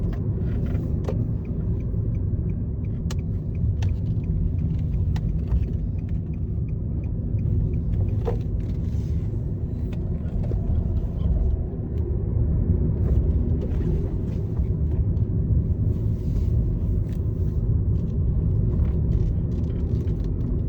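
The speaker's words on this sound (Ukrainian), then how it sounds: "Так, тестуємо зараз автомобіль." A 2017 Nissan e-NV200 electric van on a test drive gives a steady low road rumble from inside the cabin, continuous and even, with occasional light clicks and knocks and no engine roar.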